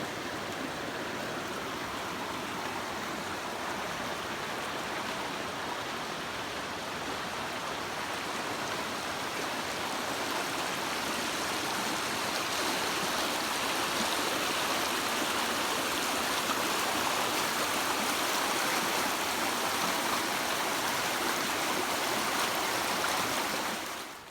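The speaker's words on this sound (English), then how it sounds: "There's water coming out of the ground here." Spring water emerging from the ground into a small stream gives a continuous broadband rushing and gurgling, close and steady throughout, swelling slightly louder in the second half.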